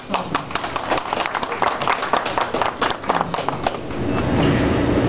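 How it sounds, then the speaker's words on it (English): A small crowd claps and cheers together, steady applause with scattered voices, swelling slightly toward the end. "So a round of applause."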